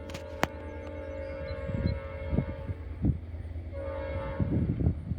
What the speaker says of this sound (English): we got an approaching eastbound here on the former Conrail line